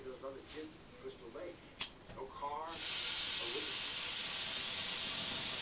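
A hairspray can releases one long, steady hiss that starts abruptly and continues to the end, following a stretch of quiet talking.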